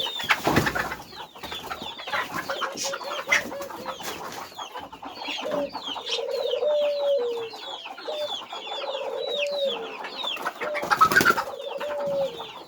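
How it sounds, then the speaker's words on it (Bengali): Native (desi) chickens cluck and murmur steadily, with a few coos and chirps from other birds mixed in, fairly close and continuous. "দেখতে পাচ্ছেন যে আমার দেশি মুরগিগুলো"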